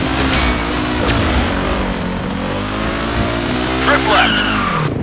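In the Stuntman Ignition video game, a motorcycle engine revs and climbs in pitch, then drops near the end of the stretch, with game voice and effects mixed in.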